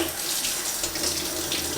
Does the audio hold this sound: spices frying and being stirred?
no